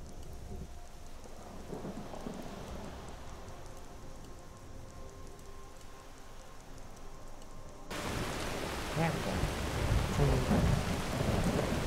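Rain and rolling thunder from the Make It Rain spell in Skyrim: a steady, moderate downpour hiss and low rumbles, which swell noticeably louder and denser about two-thirds of the way through, with no voices.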